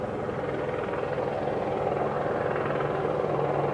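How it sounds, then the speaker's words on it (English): A helicopter passes nearby, producing a loud, steady rotor thrum and engine drone that holds throughout with a low pulsing beat and no voices. "Is that a helicopter?"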